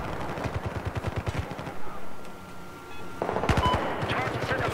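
Rapid bursts of MG4 machine gun fire in the Battlefield 4 video game, dense rhythmic volleys near and loud, with a brief lull before firing resumes, mixed with other shots and a player talking.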